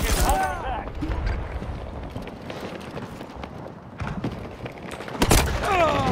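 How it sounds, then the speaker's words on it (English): Battlefield 2042 gunfire on the Spearhead map: sharp gunshots and a heavy boom ring out amid a rumbling, chaotic battle mix, with a voice speaking over the action. "They're shooting at me."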